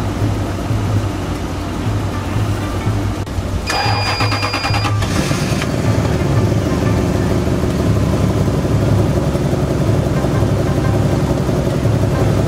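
An old car left buried in snow all winter cranks over for a few seconds, a sharp mechanical whir, then catches and settles into a loud, steady, rumbling idle close by.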